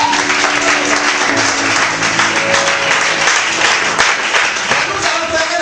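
A congregation at a prayer vigil breaks into steady, sustained applause, a dense crowd clapping that fills the hall without pause for several seconds.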